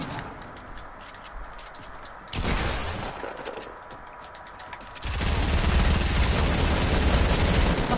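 Grenade launcher fire in the Fortnite video game: a sharp burst around the middle, then a loud, sustained run of explosive rumble and crackle in the final seconds, with no talk.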